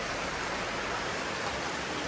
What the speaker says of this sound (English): The rain is falling.